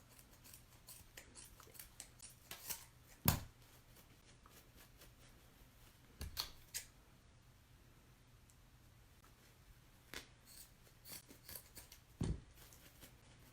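Scissors snipping the ends of fabric ties: three or four sharp, isolated cuts spaced several seconds apart, close and crisp against a quiet room.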